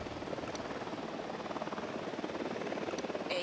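A helicopter flies in Ghost Recon Wildlands, a steady rhythmic rotor thump at moderate distance, continuous and fairly faint, with a few small game clicks on top and no talking.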